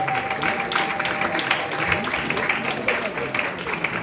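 Applause from wedding guests at a church ceremony and reception, a steady wash of clapping lasting the whole moment with a voice briefly heard underneath.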